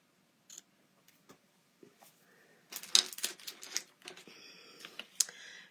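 Paper for a folded greeting card is trimmed on a cutter, producing sparse clicks and taps and then a burst of scraping, slicing strokes, close and fairly quiet.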